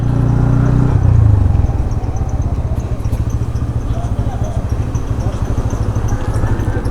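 Motorcycle on a highway heard from the pillion seat, its engine a steady, close, rough pulsing drone with road rumble, briefly louder at first before settling into an even cruising note.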